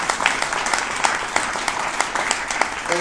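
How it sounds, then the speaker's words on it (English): An indoor audience applauds a speaker at a leadership event, a dense and steady burst of clapping that lasts the whole stretch at fairly close range. "Give him a round of applause."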